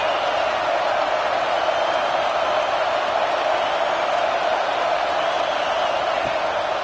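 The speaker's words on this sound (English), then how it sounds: "this crowd is turning it up a notch" A stadium crowd at a football game, heard as a constant, dense roar of cheering that stays loud and even throughout with no individual voices standing out.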